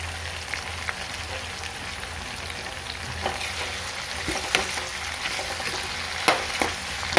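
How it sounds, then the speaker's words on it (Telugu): Bitter gourd and onions frying in oil give a steady, close crackling sizzle, with a few sharp pops and scraping stirs standing out near the end. "ఇప్పుడు కాకరకాయలు వేస్తే కాకరకాయలతో పాటు మొత్తం వేగిపోతుంది"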